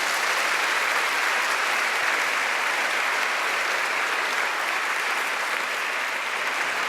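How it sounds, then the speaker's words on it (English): Steady, full applause from an audience after a question and answer session with Prof. Marcia Langton, an even wash of many hands clapping throughout with no speech over it. "I think we should give her another round of applause."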